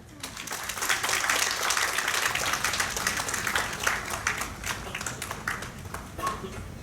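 An audience at an architects' gathering applauds warmly as a guest speaker is welcomed, steady dense clapping from many hands through the whole stretch, easing slightly toward the end.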